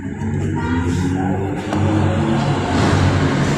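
Vehicles pass by on a busy road with a constant low rumble of traffic that swells louder toward the end, heard up close from a roadside post.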